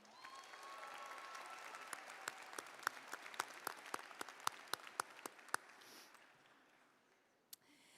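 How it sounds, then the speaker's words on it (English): Audience applause at a spring college commencement for the class of 2023, a broad wash of clapping with sharper individual claps standing out, fading away toward the end with one last stray clap. "One more round of applause for Melissa."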